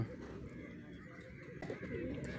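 Pigeons gathered on the riverbank steps at Aluva Manappuram during the Mahashivaratri festival, their soft cooing carried over a steady outdoor murmur of crowd and water, moderately close and fairly quiet.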